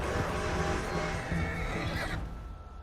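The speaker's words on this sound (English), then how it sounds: "My horse ran out of stamina." A horse in the video game Red Dead Redemption 2 gives a loud, close neigh that lasts about two seconds, then breaks off over the game's background noise.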